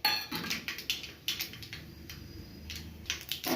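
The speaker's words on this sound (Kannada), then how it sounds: "ಎಣ್ಣೆ ಕಾದ್ಮೇಲೆ ಸಾಸಿವೆ ಹಾಕ್ಕೊಳ್ಳೋಣ." Mustard seeds dropped into hot oil in a pan for sesame rice, crackling and popping in sharp, irregular ticks and spatters, fairly quiet and close, with no talking.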